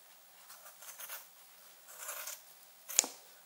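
A few quiet snips of scissors cutting heat wrap on turbo piping, spaced apart in a still room, ending with a sharper click.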